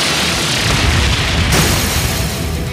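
A loud, sustained blast as the Brionac weapon fires in the role-playing game Trails of Cold Steel III, a thick roaring explosion with a sharp crack partway through, filling the whole moment with heavy rumble.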